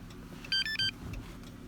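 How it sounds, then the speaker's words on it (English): Two or three short, high electronic beeps from a Chrysler 300 during key fob programming chirp in quick succession over a low idling rumble, standing out clearly for a moment before fading back. "And now we heard the little beeps."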